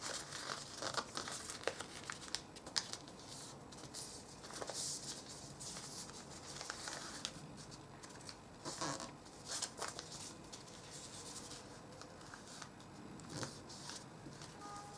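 A sheet of paper is folded and creased by hand for an origami tangram, producing soft, intermittent crinkles and rustling crackles at close range in an otherwise quiet room, with no talking.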